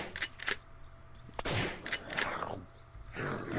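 A World War II trench gun shotgun fires in the game Unturned, sending out several sharp, loud blasts spaced irregularly, each with a short crackling tail, mixed with mechanical clatter and a grunt.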